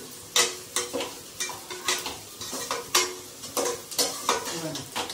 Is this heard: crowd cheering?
no